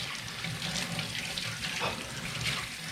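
Water runs steadily from a kitchen tap as food is washed off while making beef stew from scratch, a continuous close hiss and splash with no pauses.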